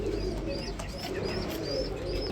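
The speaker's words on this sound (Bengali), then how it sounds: "এই যে দেখেন চলে আসছে এক জোড়া গুল্লা কবুতর।" Pigeons on a farm cooing softly over a steady background hum, a few low repeated calls close by across a couple of seconds.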